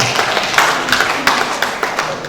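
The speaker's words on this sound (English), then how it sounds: "Please another round of applause for her." Applause from an audience at a junior staff training event, dense and steady with sharper claps breaking through the wash of hands, moderately loud throughout.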